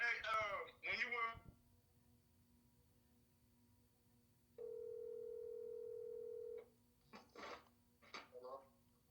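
Over a phone on speaker, a single long ringing tone sounds for about two seconds, steady and moderately loud, between stretches of someone talking before and after it.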